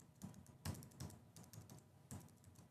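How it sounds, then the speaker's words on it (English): Keys tapping on a computer keyboard as a root password is entered during an Ubuntu 24.04 server setup, a few scattered clicks with gaps between them, close and fairly quiet. "I'll type in my password for the root user here and press enter."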